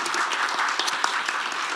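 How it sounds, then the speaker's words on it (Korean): An audience at a startup review seminar claps steadily, a dense, continuous patter of many hands at even loudness from start to finish. "우리 이소영 위원님 특히 김승원 위원님 늦게 오셨기 때문에 두 우리 회장님한테 박수를 부탁드립니다"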